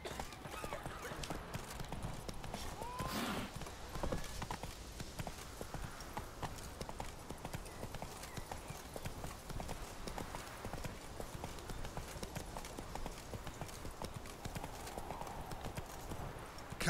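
The horse Roach clip-clops steadily through a fantasy video game world, hoofbeats continuous and fairly quiet over faint ambient wind and background game sound.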